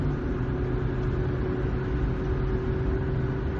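Ford rear axle howl from a worn ring and pinion at about 50 mph, a steady whining tone riding on continuous road and engine rumble inside the cabin, no voices.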